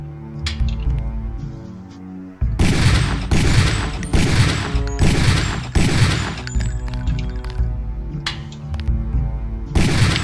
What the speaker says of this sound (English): take a few shots with one of the pistols until it is destroyed